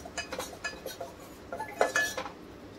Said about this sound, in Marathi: बेसनला थोडंसं भाजून घेऊया। 2 मिनिटासाठी परतून घेऊया चांगलं